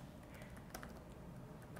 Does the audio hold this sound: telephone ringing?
no